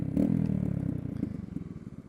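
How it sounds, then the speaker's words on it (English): A Honda Grom motorcycle fitted with a Zoom exhaust idles nearby, giving a low, steady engine rumble with a slight clattery edge, fairly loud and unbroken, with no voices. "Love the sound of my bike."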